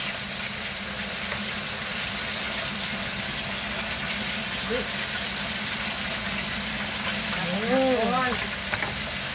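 Fish tinola broth bubbling and simmering in a pot in a Filipino kitchen, a steady hissing seethe throughout, with a voice briefly speaking near the end.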